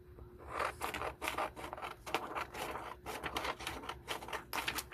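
Scissors snip through a paper image cut from a journaling book, a close, quiet run of rapid rasping cuts in an uneven rhythm with no pauses.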